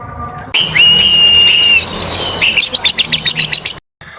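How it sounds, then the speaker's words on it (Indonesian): Birds sound close by: one long, steady whistled note, then a quick run of bright chirps, loud and clear before ending abruptly in silence. "Tiba-tiba langit menjadi gelap, ribuan burung terbang mendekat."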